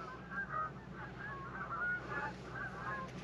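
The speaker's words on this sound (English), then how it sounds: "look at these geese coming in." A flock of geese flies in, honking repeatedly with overlapping nasal calls at moderate distance over a low steady background hum.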